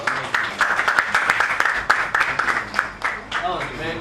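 An audience at a graduation ceremony claps in loud, uneven bursts while a voice talks over the applause.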